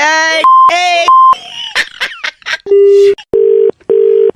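Telephone dialing: a string of loud, clipped keypad tones, a few rapid beeps, then a short cluster of chirps and three evenly spaced dial beeps.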